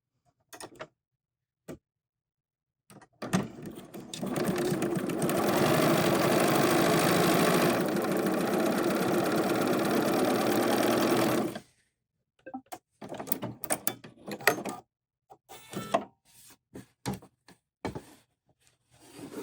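A BERNINA 990 sewing machine runs in one sustained burst of steady stitching for about eight seconds while quilting a watermelon mat, framed by light clicks and fabric handling before and after.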